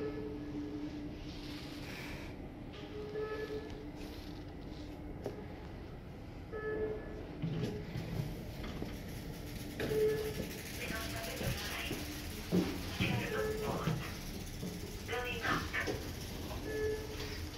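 Rumbling approach of a metro train pulling into Lauttasaari metro station in Helsinki, Finland, rising and falling with squeals and clatter, while a person talks faintly nearby.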